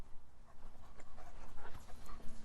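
Puppies panting rapidly close by, with quick breathy bursts and a few soft whimpers over about two and a half seconds, heard outdoors with no talking.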